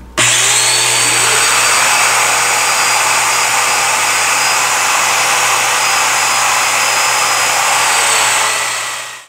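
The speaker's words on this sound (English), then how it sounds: "all I need to do is take my domino, line up those marks, and plunge them in" A domino joiner plunge-cuts mortises into a curved table rail for a butterfly leaf dining table, giving a loud, steady motor whine that runs for about nine seconds and then cuts off.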